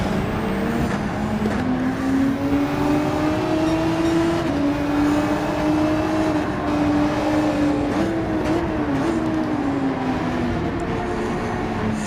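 Renault RS 01 Gr.3 race car engine at Suzuka in Gran Turismo Sport, a steady high-revving drone with small pitch shifts through gear changes, loud and continuous with no talk.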